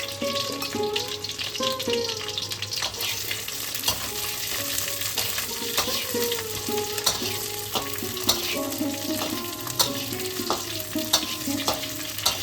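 Green chilli, bay leaf and cumin sizzle in hot oil with a spoonful of ghee, giving a dense, steady crackle punctuated by frequent sharp pops and spoon taps, loud and close throughout with no voices.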